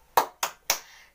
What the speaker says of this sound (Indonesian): Coba kita tepuk salut dulu nih buat anak-anak.